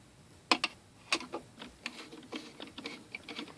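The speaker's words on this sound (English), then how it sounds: "So we have to unscrew the cover." A screw-on cover being turned off by hand gives a series of sharp little clicks and ticks, a few louder at the start and then lighter, irregular scrapes, close and quiet with no talking.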